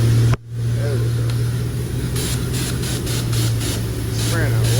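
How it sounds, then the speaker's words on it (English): A pressure washer sprays soapy water onto a lifted Chevrolet Tahoe truck, producing a steady, close hiss over a low mechanical hum, with a few brief surging bursts as the spray shifts. "Spraying out water right now."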